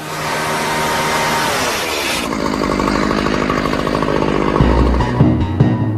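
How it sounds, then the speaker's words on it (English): Loud, continuous roar of a carbide-blade chainsaw cutting up an airplane's metal, the engine pitch shifting as the blade cuts, close and unbroken. "what you'll use is like a chainsaw, which has a carbide blade on it, and you will cut the plane up"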